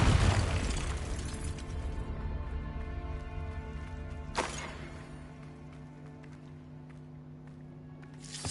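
A Confringo fire spell in Hogwarts Legacy bursts with a loud, close boom at the start, then a roaring blast decays into a long sustained rumble with a second sharp crack midway.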